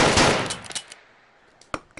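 A Sig Sauer P30L handgun fitted with a match compensator fires in the VR game Gun Club VR: one sharp, loud shot rings out and fades quickly, followed by faint mechanical clicks and a small final snap.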